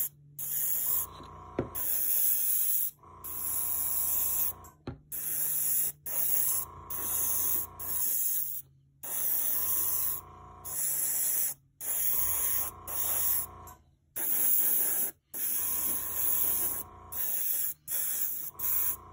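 An airbrush sprays teal base coat paint in repeated short bursts, each a loud hissing spray with a faint hum, separated by brief silences in a steady on-off rhythm, with no one speaking.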